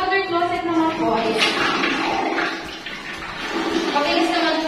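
A water closet in a newly finished residential tower unit flushes with a steady, rushing gurgle of water, while voices talk over it in the room.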